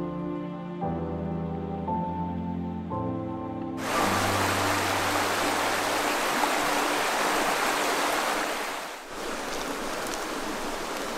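The glacier-fed Hoh River rushes past Glacier Meadows in Olympic National Park, a loud, steady broadband roar of flowing water that swells in abruptly after a few seconds of low humming tones and continues without pause.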